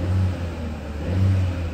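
A 2019 Chevy Trax with a 1.4 liter turbo engine revs steadily, a close, low mid-pitched hum that swells twice under a constant background drone, with no talking.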